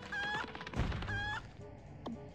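A cartoonish chicken squawks and clucks in the video game Ed, Edd n Eddy: The Mis-Edventures, with two short honking calls, a dull thump between them and a quick squeak at the end, over busy game background sound.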